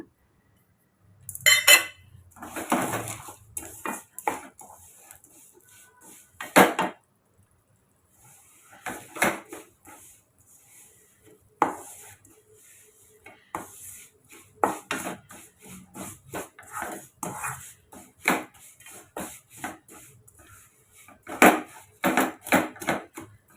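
A thick sesame and jaggery syrup mixture with roasted gram, for sesame sweet balls, is stirred in a pan with a spoon, giving irregular scraping strokes and sharp knocks against the metal, close and fairly quiet, with no talking.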